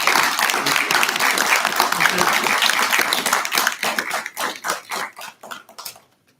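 An audience at an evening history talk applauds loudly and densely, then the clapping thins into scattered individual claps and fades out, with some voices mixed in.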